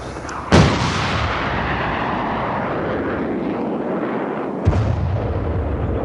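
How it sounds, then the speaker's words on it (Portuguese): Artillery bombardment on Pedra Verde in the Angolan colonial war: a loud, sustained roar of distant heavy fire, with two sharp blasts, one early and one near the end, standing out against the continuous rumble. "entrou agora a artilharia a abrir caminho para as companhias de caçadores"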